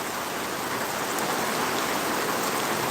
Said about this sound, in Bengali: রাতে অজোর ধারায় বৃষ্টি হচ্ছে